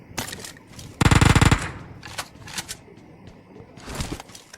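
Automatic gunfire rings out in a PUBG Mobile duo-versus-squad match: one loud, rapid burst lasting about half a second, followed by softer clicks and scattered game sounds.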